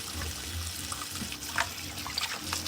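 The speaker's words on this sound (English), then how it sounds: "I already washed it a couple of times. I'm rinsing it right now." Tap water runs steadily into a sink while cilantro is rinsed, a close, continuous splashing trickle with small bursts as the leaves are moved under the stream.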